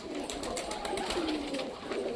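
Pet pigeons coo softly in a short run of low, rounded calls at moderate distance against a quiet background.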